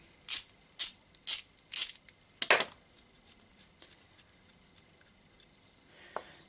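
A ratchet removing a brake caliper bolt on a Honda Rebel 125 motorcycle: five quick, crisp clicking bursts close by, then a longer rattle and scattered faint ticks, with no talk.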